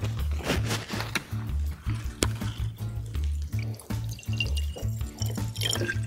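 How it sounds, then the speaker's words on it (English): White vinegar poured from a container into a bottle, a steady liquid trickle and splash running throughout over constant background music. "So the first thing you do is pour your vinegar into the bottle."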